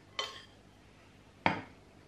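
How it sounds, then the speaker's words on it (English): A spoon taps twice against small pots while rhubarb crumble topping is spooned on top, two separate close knocks in otherwise quiet surroundings. "And then simply spoon that on top too."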